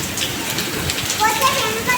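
Rain patters steadily on a surface nearby, a continuous textured hiss with faint voices murmuring underneath.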